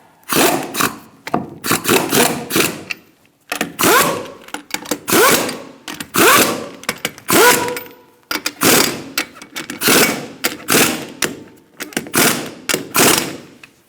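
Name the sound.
tightening Honda CR-V wheel lug nuts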